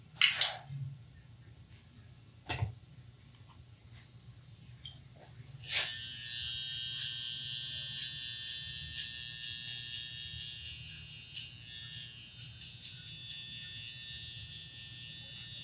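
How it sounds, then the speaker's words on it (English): A JRL or Stylecraft Instinct hair clipper is switched on after a few sharp handling clicks and then hums in a steady, bright electric buzz close by for the rest of the clip, with no talk over it. "Slimline Pros were just a phenomenal machine"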